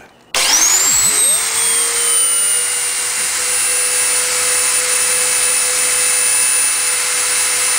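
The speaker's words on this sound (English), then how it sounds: "get your drill press set up" A motor starts abruptly and spins up to a steady, loud whine that holds without pause, like a drill press running close by.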